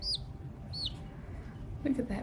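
Ayam Cemani chicks chirping: two short, high chirps close together near the start, then a softer call at the end, over a low background rumble.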